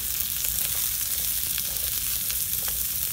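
Carrots sizzle in olive oil in a pan, a continuous soft crackle and hiss of frying with small pops scattered throughout, fairly quiet and close, no voices.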